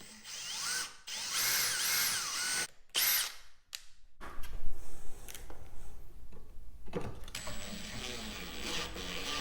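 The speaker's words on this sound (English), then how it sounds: "So go ahead and mount this to the jig here." Power drill driving a screw to fasten a drawer pull onto a router table jig, with loud whirring bursts in the first few seconds, then quieter shuffling handling noise.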